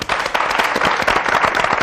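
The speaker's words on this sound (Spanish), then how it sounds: "un aplauso muy fuerte" Enthusiastic studio audience applause on a 1996 Spanish morning television programme, dense and loud sustained clapping filling the whole stretch.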